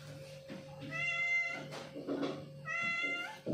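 A cat meows twice while eating biscuits: two close, clear, drawn-out calls a couple of seconds apart over a steady low background hum.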